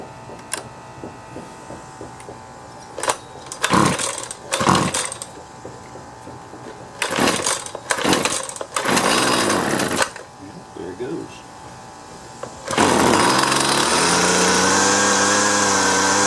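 A street-found Husqvarna 128LD two-stroke string trimmer being pulled over several times with brief sputters, then catching and running steadily at a high, buzzing idle; a voice talks between pulls.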